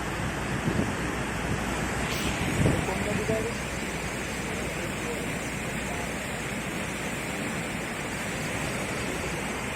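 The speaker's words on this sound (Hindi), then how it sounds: "पानी इतना भरा हुआ है। देखिए पुलिया से निकल नहीं पा रहा पानी, बहुत ही भयंकर स्थिति" A river swollen by torrential rain overflows near a college in Dineshpur on the Kashipur road, its floodwater unable to pass under a small culvert, making a loud, steady, broadband roar that fills the whole stretch.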